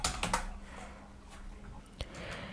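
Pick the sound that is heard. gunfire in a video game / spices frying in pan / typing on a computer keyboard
typing on a computer keyboard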